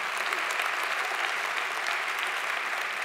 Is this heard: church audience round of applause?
yes